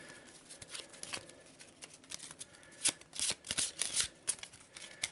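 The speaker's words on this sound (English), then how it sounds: "So we'll give him a quick shuffle." A deck of Arkham Horror board game cards is shuffled quickly at the table, with soft riffling bursts that grow denser and louder toward the end, heard close and alone.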